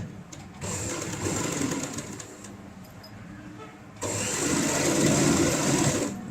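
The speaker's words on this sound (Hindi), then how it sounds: "पलटने के बाद हमें यहाँ पे सिलाई लगानी होती है इस तरीके से।" A sewing machine stitches a zipper onto a ladies' purse bag, running in two bursts of rapid, steady whirring with a brief slower stretch between, close by and without talk.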